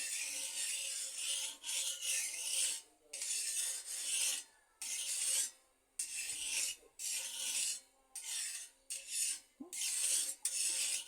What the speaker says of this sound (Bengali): তেল তাওয়া পুরো গায়ে লাগিয়ে নিতে হবে